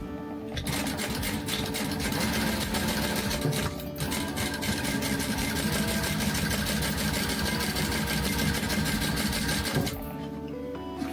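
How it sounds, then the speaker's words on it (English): Sewing machine top stitching along the edge of a card slot on a bifold purse, a steady loud mechanical whir running nearly nonstop for about nine seconds before stopping abruptly. "we're just going to top stitch along the top of our card slot"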